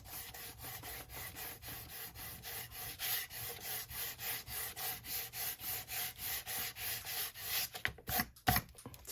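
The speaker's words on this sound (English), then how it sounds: "I get a little piece of sandpaper and I sand this." Small piece of sandpaper rubbed over a shiny surface in quick, even back-and-forth strokes, close and fairly quiet, a steady rasping rhythm with no voices.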